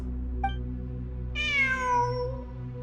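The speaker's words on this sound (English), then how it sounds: "It really is a cat." A single drawn-out meow from a cat in the video game Genshin Impact, rising then falling in pitch, over a steady low electronic hum, with a faint short chirp just before it.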